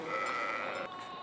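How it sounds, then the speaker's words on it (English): Sheep and small lambs bleat on a trail drive, a single drawn-out faint bleat fading near the end, with no talking. "It takes us about 4 days to get there because we're going with little lambs, small lambs."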